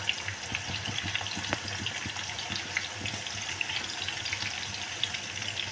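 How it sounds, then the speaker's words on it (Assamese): Potato pieces coated in cornflour fry in a hot non-stick pan, giving a continuous crackling sizzle with scattered small pops and light clicks, with no talking. "গৰম হ'ল, মই এতিয়া আলুখিনি ইয়াতে দি দিওঁ।"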